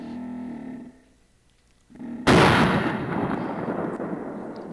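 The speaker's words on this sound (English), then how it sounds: "He shot over him." A single loud rifle shot cracks out during a deer hunt, a sharp blast that booms and rolls away across open country after a brief quiet.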